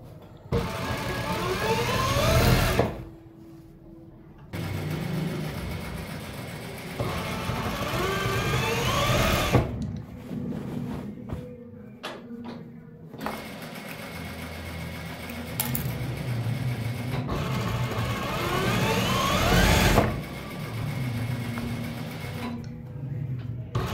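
A sewing machine stitches elastic in steady motorized bursts of a few seconds each, separated by short pauses, close and fairly loud with no talking.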